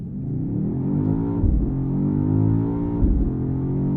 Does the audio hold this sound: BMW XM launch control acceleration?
yes